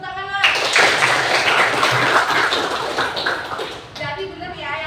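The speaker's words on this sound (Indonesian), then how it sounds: "Kasih tepuk tangan lah" A class of students clapping together in a classroom, a dense, steady burst of handclaps lasting several seconds, with voices mixed in and the clapping tapering off near the end.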